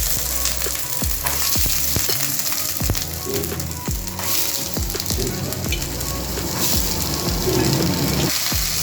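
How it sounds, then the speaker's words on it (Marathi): Green pigeon pea beans frying in half a teaspoon of hot oil in a pan, a loud steady sizzle with repeated sharp scraping and stirring knocks throughout. "तेल गरम झालं तर जे तुरीचे दाणे आहे ते यामध्ये टाकून द्यायचे"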